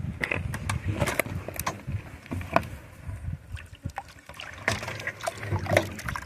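Water is poured over iron-rich gravel while panning for gold outdoors, giving irregular splashes and trickles with sharp gritty clicks of stones shifting, rising and falling in bursts close by.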